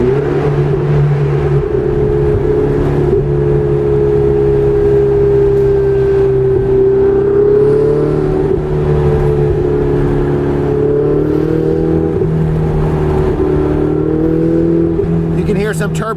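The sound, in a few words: Ferrari 488 Spider engine with turbo whoosh while driving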